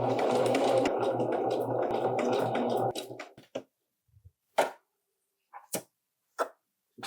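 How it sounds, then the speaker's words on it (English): A sewing machine zigzag stitches a seam on a pair of pants, a close steady motor whir for about three seconds that stops abruptly, followed by scattered clicks and fabric handling in near silence. "we have zigzag stitched"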